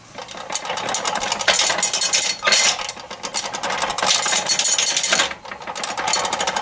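A hand-lever air blower on a blacksmith forge churns in repeated bursts, a loud close mechanical whirring and rattling that surges and eases with each stroke of the lever.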